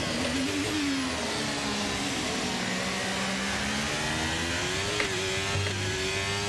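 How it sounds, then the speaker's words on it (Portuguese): A Ferrari Formula 1 car in the F1 23 video game, its high-pitched engine whine holding loud and steady, dipping and climbing in pitch as it accelerates, with no voices. "olha que a Ferrari acelerou agora para conseguir essa pontuação"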